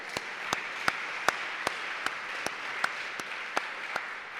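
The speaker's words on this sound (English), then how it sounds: "Let's applaud the nominated authors" An academic audience in a university lecture hall claps for award-nominated authors: a dense wash of applause with regular sharp rhythmic claps punctuating it, steady and fairly close.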